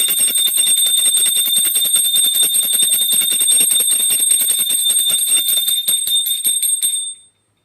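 A handheld bell rings rapidly and continuously during a home puja, a bright metallic jangle with sharp repeated strikes that keeps up evenly before stopping abruptly near the end.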